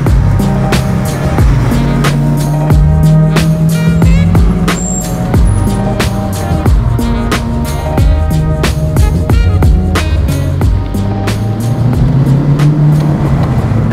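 A replica AC Cobra cruising along, its engine a loud, continuous low rumble with shifting pitch and clattering road and wind noise throughout.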